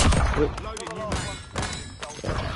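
Weapon magazine swapped in a squad-based shooter video game, heard as a quick run of close, solid thunks and mechanical clicks with a brief rattle, all over continuous game background noise.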